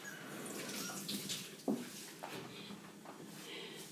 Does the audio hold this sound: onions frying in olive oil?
no